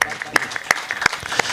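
Audience applause greets a poet at a Hindi kavi sammelan, with a short burst of uneven individual claps close by.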